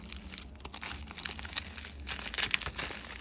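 Fingernails pick at and tear open a small plastic package, giving close, continuous crinkling and crackling with sharper crunchy peaks, no talking.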